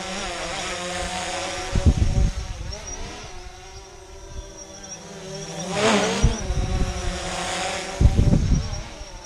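A small consumer drone hovers with a high, steady insect-like whine, its buzzing pitch shifting as it moves closer and farther, while gusts and handling thumps break in and a voice talks at times.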